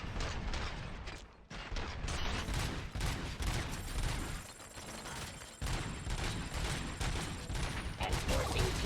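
Gunfire from a weapon in RoboCop: Rogue City, a loud continuous barrage of rapid shots mixed with mechanical clatter, with brief gaps between bursts.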